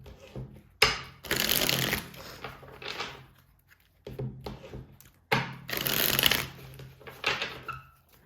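Tarot cards shuffled by hand before a reading, in several bursts of riffling and sliding that stop and start over about eight seconds, close and fairly quiet, with no talk.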